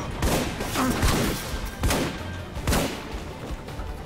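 Several loud gunshot bursts ring out in the video game Alpha Protocol, spaced roughly every second or so, each a sharp crack with some low thumping beneath.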